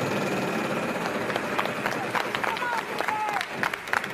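On a Wheel of Fortune television game show, the big wheel spins with a run of quick clicks that grows more distinct toward the end, over studio crowd murmur and applause.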